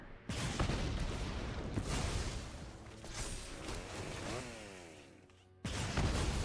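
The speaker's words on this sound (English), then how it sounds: "Chainsaw." A chainsaw sound effect plays in the digital card game MTG Arena: a harsh, buzzing, revving roar with rising whines and crashing bursts, lasting several seconds with a short gap before it surges again.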